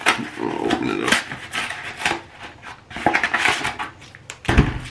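An American MRE meal-ready-to-eat pouch of meatballs in marinara sauce being torn open, crinkly plastic rustling and tearing in close-up with a few scraping handling noises, no voice.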